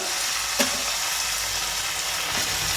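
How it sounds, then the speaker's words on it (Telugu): Tomatoes frying in a pan for a mango yogurt pickle, giving a steady hissing sizzle throughout with a faint stir or clink near the start, close and continuous with no talking. "ఇప్పుడైతే మంచిగా ఫ్రై అయితే చేసుకున్నాము టమాటా అనేది మగ్గాలి కదా"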